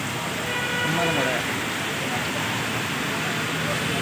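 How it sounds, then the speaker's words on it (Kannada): Heavy rain in Bangalore pours in a dense, continuous hiss close by, while people talk over it. "ತುಂಬಾ ಮಳೆ."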